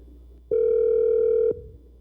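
A telephone ringing tone plays from a call recording at a student mock civil trial: one steady, pure tone lasting about a second, then quiet.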